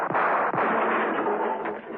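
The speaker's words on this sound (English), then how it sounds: "hearing the shots" Gunshots in a radio drama of The Avengers ring out as a few muffled bangs over a continuous hissy, narrow-band background.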